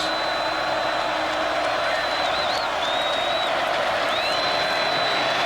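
A football stadium crowd roars loudly and continuously during the Alabama Crimson Tide vs. Ole Miss Rebels 2022 game, cheering on third down to help the defense, with a steady dense wash of noise and faint whistles above it.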